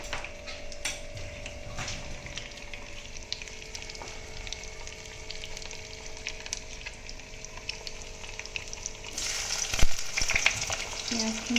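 A paste of ginger, garlic and cumin sizzles and fries in a hot wok, a continuous close crackle with occasional stirring clicks, growing sharper and louder near the end as more goes into the pan.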